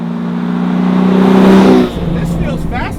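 A 650 HP 1969 Camaro track car built by Detroit Speed revs hard, its engine note climbing loud and close for nearly two seconds before cutting back, with people talking over it afterward.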